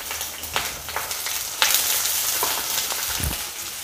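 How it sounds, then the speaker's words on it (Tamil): Sliced onion with cinnamon, cloves and cardamom sizzling and frying in a pan for a mutton fry, with steady crackle and a few louder stirring scrapes near the microphone. "இதை இப்போ நல்லா வதக்கிடுவோம்."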